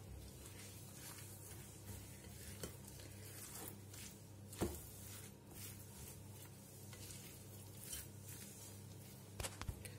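A spoon stirs a filling mixture for Moroccan stuffed Berber bread in a bowl, soft scraping and patter with a few sharper clinks, quiet and close.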